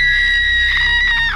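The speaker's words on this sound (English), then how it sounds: "Is that you that's screaming?" A shrill, sustained scream from the horror game Bad Dream Coma, set in an old house, rings out loud and steady for over a second before sliding downward at the end.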